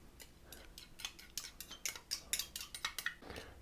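A utensil scrapes mayonnaise out of a container into a bowl, making a rapid series of close, sharp scraping clicks that grow busier and louder toward the end, with no talking.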